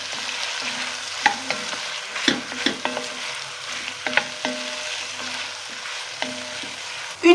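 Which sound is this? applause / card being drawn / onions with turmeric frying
onions with turmeric frying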